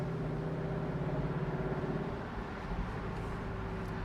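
A Lexus LC 500 Convertible engine drones steadily while cruising along a small road, a low, fairly quiet hum with a sustained tonal note and faint road noise, no talking over it.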